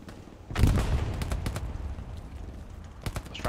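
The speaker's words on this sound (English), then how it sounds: "Goddamn strafing run." Strafing-run gunfire in a tank battle video game, a heavy burst of rapid shots and impacts with dense crackling that trails off, followed by a few sharp clicks.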